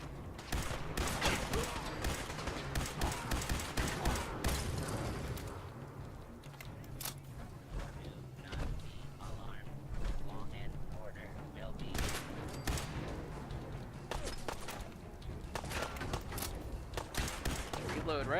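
Rapid bursts of weapon fire in the video game Fallout 4 VR, a volley of sharp shots at first, then scattered shots and thuds, with a voice talking over parts of it.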